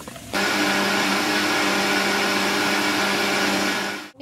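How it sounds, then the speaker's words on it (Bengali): A blender whirs continuously as it purées cooled tomato pulp for homemade sauce, starting abruptly and running at a loud, steady drone for about four seconds before cutting off. "এবার ব্লেন্ড করে নেবে মা।"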